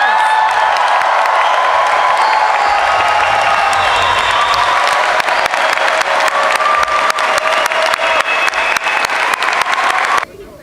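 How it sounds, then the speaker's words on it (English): Sustained audience applause at a congratulatory ceremony, loud and steady for about ten seconds with scattered sharp claps and faint crowd noise beneath, ending abruptly. "Let's give them a round of applause."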